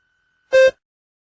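A single short electronic beep, clean and tonal, lasting about a quarter second against near silence.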